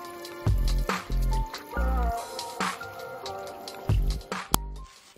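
Tuna pieces are rinsed by hand in cold water, with repeated squishing, sloshing and dripping sounds up close, in uneven bursts.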